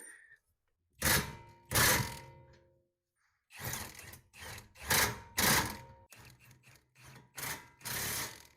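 B&W sliding hitch rolling after a noise fix, giving a series of mechanical rattling, clunking bursts in an irregular rhythm with brief pauses between them, close and fairly quiet.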